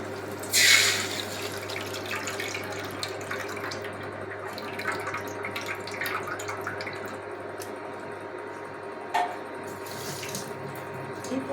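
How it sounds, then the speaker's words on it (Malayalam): A steady stream of tamarind water pouring and splashing into a pan, continuous and close, with a couple of brief louder splashes. "ആദ്യം തന്നെ നമ്മൾ പുളിവെള്ളമാണ് ഒഴിക്കുന്നത്"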